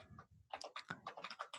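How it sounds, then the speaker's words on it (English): Fast typing on a computer keyboard during a live coding session: a quick, irregular run of close, crisp key clicks, soft at first and then denser, with no talking. "Just typing too quickly for my own good."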